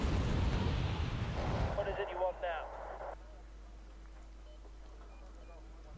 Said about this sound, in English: Where is the artillery firing from?